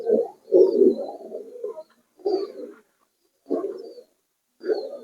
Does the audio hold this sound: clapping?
no